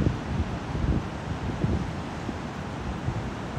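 Wind by the ocean on a sunny day where surfers are out, a steady broadband rush with gusty buffeting against the microphone and no voices.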